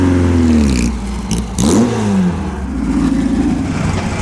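Porsche 550 sports cars pass one after another during the Mille Miglia road race, loud engines rising and falling in pitch with revving as each car goes by close.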